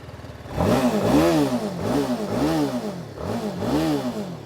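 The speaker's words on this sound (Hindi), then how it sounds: "सेकेंड इंप्रेशन उसका एग्जॉस्ट नोट, और वो मुझे काफ़ी पसंद आया।" A TVS Apache RR 310 motorcycle exhaust revs close and loud, kicking in sharply, then rising and falling in four or five repeated throttle blips with a steady rhythm and no talk.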